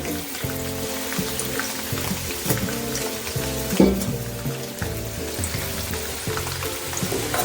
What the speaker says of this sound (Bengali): তেলের মধ্যে আমি একটা একটা করে পনির ভেজে নেবো